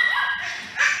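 A Cavachon puppy gives high, yipping barks with a whimpering edge, close and fairly loud, one bark trailing into another near the end.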